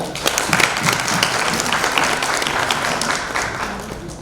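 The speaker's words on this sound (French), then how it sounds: "Une bonne main d'applaudissements, s'il vous plaît, pour Monsieur Franz Benjamin." An audience applauds steadily and fairly loudly at a public event honouring deputy Frantz Benjamin, dense clapping sustained throughout with no voices over it.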